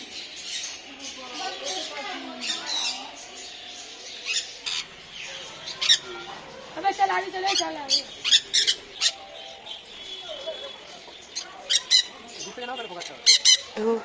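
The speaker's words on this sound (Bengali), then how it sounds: "ঢুকতেই কত রকমের পাখি ছিল" Many kinds of birds, including peacocks and chickens, squawk and screech in a bird park, with sharp, repeated calls that grow denser toward the end over a low background.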